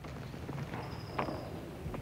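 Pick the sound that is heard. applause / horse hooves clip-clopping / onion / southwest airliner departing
horse hooves clip-clopping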